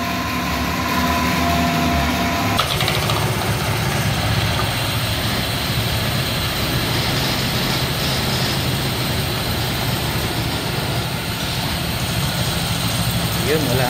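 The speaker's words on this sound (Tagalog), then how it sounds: "Kondisyon na naman yung motor natin ng Honda Click 160." A Honda Click 160 scooter idles nearby in a steady, even drone that shifts slightly early on and then holds a constant hum.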